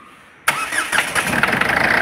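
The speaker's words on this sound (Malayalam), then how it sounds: "നമുക്ക് ആദ്യം വണ്ടി ഒന്ന് സ്റ്റാർട്ട് ചെയ്ത എഞ്ചിൻ്റെ വൈബ്രേഷൻ ഒന്ന് നോക്കാം" A Ford Figo's engine cranks and catches after a short quiet moment, then settles into a steady close idle with a faint rhythmic unevenness, suggesting an engine misfire and pickup problem.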